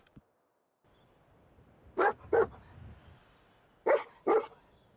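Dog Meat, the dog companion in a Fallout video game, barks in two quick double bursts a couple of seconds apart, loud and close over a low ambient game background with no talk.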